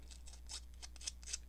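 Scissors snipping and distressing the edges of a paper sheet for a junk journal: a series of short, crisp cuts in an uneven rhythm, close and quiet in a still room.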